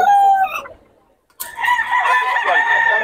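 A rooster crows loudly and close by at a Bocaue market, with a short bright call, a brief pause, then a longer harsh crow with clucking.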